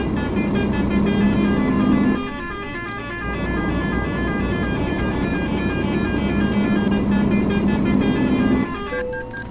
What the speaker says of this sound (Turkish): Şöyle bir kornamızı atalım.